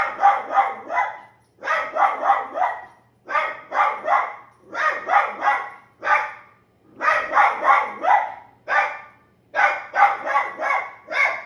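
A dog barks loudly and nearby in repeated rapid bursts, short volleys separated by brief pauses, continuing steadily throughout.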